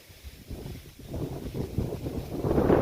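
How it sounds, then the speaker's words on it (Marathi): Evening wind blows outdoors beside a maize field, buffeting the microphone with a low, gusty rumble that grows stronger toward the end, with no one talking. "आणि वारा पण खूप सुटलाय आहे"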